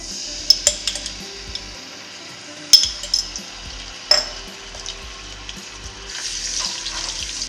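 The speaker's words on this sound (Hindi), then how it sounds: "अब हम लोग इसमें ऐड करेंगे जिंजर गार्लिक पेस्ट।" Ginger garlic paste drops into hot oil with bay leaf and peppercorns, bursting into a steady sizzle with sharp spatters and occasional stirring clicks. No one speaks.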